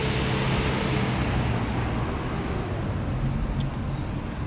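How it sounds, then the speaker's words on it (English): A city bus pulls away down a wet Macau street near Macau Tower at night, making a low, steady rumble over broad traffic and wind noise. "Here goes our bus."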